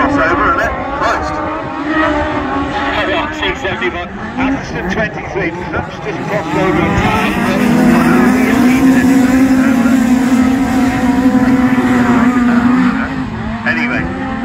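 Race cars lap a track at the Evesham Alf Cope Memorial meeting, engines droning and rising with occasional tire noise, while a commentator talks over them throughout.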